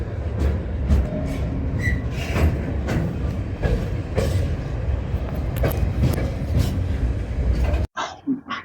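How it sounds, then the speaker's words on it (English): Long freight train passing through Southampton Central station, a loud, steady rumble with clanking and rattling wagons that runs unbroken for several seconds, then cuts off abruptly; a voice speaks briefly afterward. "this is the long freight train"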